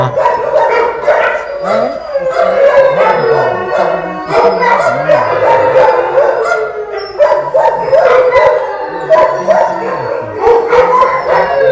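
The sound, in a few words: dogs barking and howling at a dog shelter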